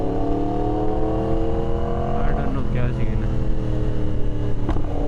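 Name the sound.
Yamaha R1S motorcycle engine while riding at night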